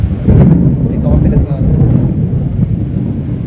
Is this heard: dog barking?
no